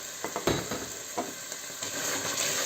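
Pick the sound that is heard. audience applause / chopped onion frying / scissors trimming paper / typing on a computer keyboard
chopped onion frying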